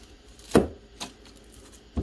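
A freshly sharpened knife slices through an onion, giving one sharp crisp cut followed by two lighter taps of the blade, close and clear with no talk.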